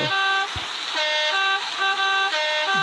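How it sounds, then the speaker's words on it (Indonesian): A British Rail Class 37 locomotive sounds its horn in loud, sustained, tonal blasts that shift pitch between notes. The horn fills the whole stretch up close. "Klaksonnya unik, guys. Kayak klakson bis, guys."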